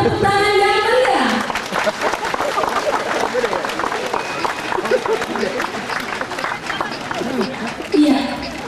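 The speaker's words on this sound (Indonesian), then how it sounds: "Mari kita sambut dengan tepuk tangan yang meriah" A crowd applauds to welcome two bishops arriving at the blessing and inauguration of Graha Maria Annai Velangkanni, with dense clapping filling most of the stretch and people talking over it.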